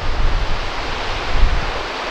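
Ocean surf along Labrador's east coastline rushes in a continuous broadband roar, with wind buffeting the microphone in heavier gusts near the start and middle.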